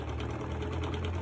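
A sewing machine stitching through foam pieces for a V-shaped turban, a steady rapid mechanical whir with regular needle ticks, close and continuous.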